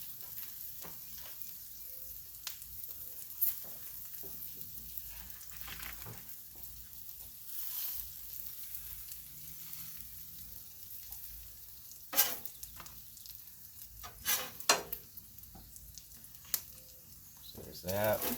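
A quesadilla topped with white American cheese sizzles softly and steadily on a 22-inch Blackstone griddle, a faint continuous frying hiss with occasional spatula scrapes and a voice talking over it.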